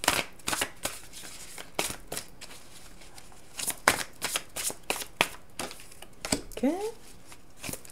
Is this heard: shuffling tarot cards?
yes